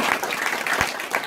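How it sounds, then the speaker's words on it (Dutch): A studio audience gives a brief burst of applause at the close of a Dutch show. The clapping is dense and steady, moderately loud, with no speech over it. "Een applaus."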